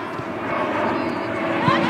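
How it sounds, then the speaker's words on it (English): An airplane passes overhead during an under-14 girls' football grand final, a steady broad engine roar heard beneath continuous commentary. "As another plane goes overhead."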